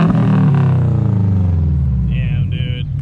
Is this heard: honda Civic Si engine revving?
yes